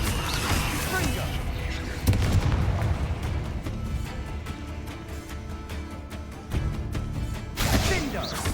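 Confringo fire spells cast in the video game Hogwarts Legacy burst in repeated booming explosions, several sharp blasts landing over a dense, continuous wash of battle noise.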